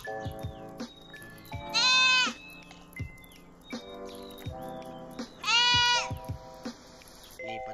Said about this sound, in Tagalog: Kawawa naman yung kambing.